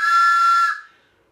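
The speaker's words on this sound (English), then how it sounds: "It's a train whistle." A single train whistle sounds one steady, loud, bright blast of under a second, then cuts off and fades quickly, alone without any talk.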